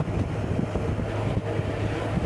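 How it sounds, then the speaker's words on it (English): Steady low rumbling wind buffeting a microphone while riding along a windy road, continuous and loud throughout with no voices. "So we're on quite a windy road now, and Mark and I are getting blown around"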